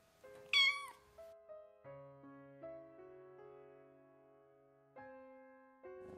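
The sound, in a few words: cat meowing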